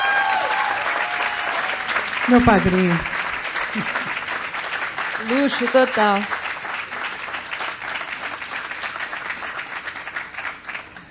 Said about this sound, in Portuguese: muitas palmas para minha querida Joyce